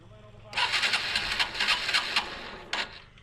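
A motorbike's electric starter cranks the engine in a quick, pulsing whir for about two seconds, then gives one more short burst, nearby and moderately loud.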